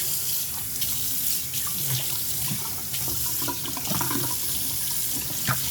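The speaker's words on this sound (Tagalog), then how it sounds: "Hindi na nagbabara yung tubig natin." Tap water runs steadily and drains freely down an unclogged kitchen sink, a continuous close splashing rush with no talking.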